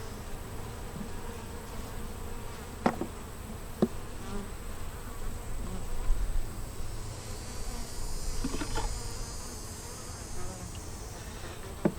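Honey bees buzz in a dense, steady drone around an open hive while it is split, with a few sharp knocks and clicks of frames and hive parts handled close by, and no talk.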